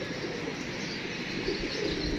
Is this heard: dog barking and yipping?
no